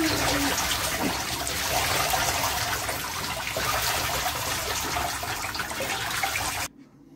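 Steady heavy trickling and splashing of water draining from a wet camel-wool blanket runs continuously for several seconds, close by, then stops abruptly at the end.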